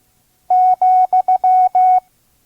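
A single pure Morse tone keys out the comma: two long dashes, two quick dots, then two more long dashes, clean and loud against silence, sent at a slow learner's pace.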